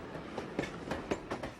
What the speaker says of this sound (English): He travels on an armored train.